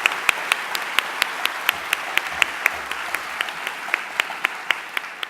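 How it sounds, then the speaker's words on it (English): An audience applauds the facilitator at an evening oration, giving sustained, even clapping from a hall crowd with sharp individual claps standing out, and no voices over it. "can a big round of applause to thank her"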